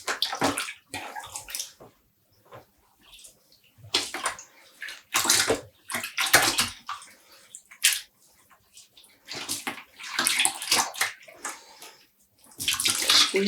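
Water splashes and sloshes in irregular bursts, close by, as dyed embroidery yarn skeins are dunked and swished in a basin for rinsing, with quiet pauses between the splashes.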